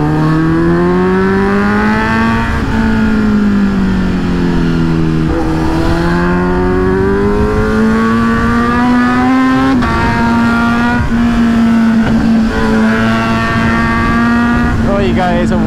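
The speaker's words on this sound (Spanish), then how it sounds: "Eso, muchachos, como suena esa moto." A Kawasaki Z900 inline-four motorcycle revs hard while being ridden, a loud, steady, close engine drone that rises and falls in pitch through gear changes.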